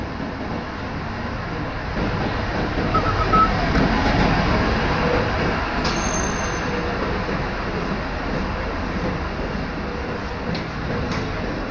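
A train at Beed railway station rumbles past with a loud, continuous roar of wheels and carriages, steady throughout with faint metallic squeals and clicks over the top, close by and without voices.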